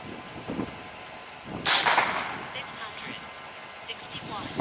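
A single sharp crack from a Seneca Recluse .357 air rifle firing a heavy pellet, a brief loud report near the middle with a short tail, set between stretches of someone talking.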